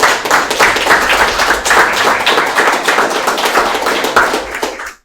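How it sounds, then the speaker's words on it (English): Audience applause at a Toronto mobile .NET developers meetup, a dense, steady burst of many hands clapping that carries on for several seconds and then cuts off abruptly at the end. "How about a round of applause for Alan?"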